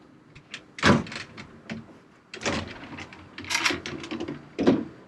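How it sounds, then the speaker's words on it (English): Sliding privacy doors in the front bedroom of a 2022 Airstream Classic 33FB travel trailer rumble and thud as they roll across and close, giving several close, moderately loud knocks and slides with no talking. "there's sliding doors that come across"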